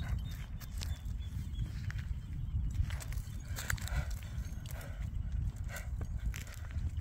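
Criollo horse walking with soft, irregular hoof clops over rustling ground and light outdoor background noise, fairly close and steady with no clear speech.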